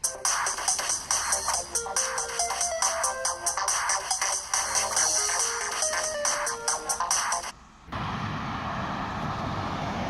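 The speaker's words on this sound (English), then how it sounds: "I guess the phone rings in the middle of it when I'm videotaping" A telephone ringtone sounds indoors near a garden in midsummer, a loud, fast electronic melody of repeated chirping tones that plays continuously for about eight seconds and then stops abruptly, leaving a steady background hiss.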